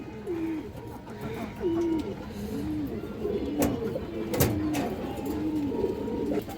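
A pigeon offered for sale coos over and over in a steady, rolling rhythm from close by, with other birds chirping faintly around it and a few sharp clatters from the cage.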